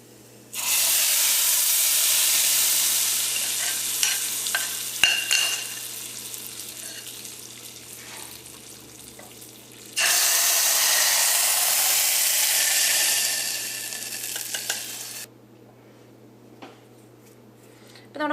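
Hot tempering is poured into a mango kalan curry and stirred, making a loud, steady sizzle that lasts several seconds, falls away, then swells again in a second long burst with no talking.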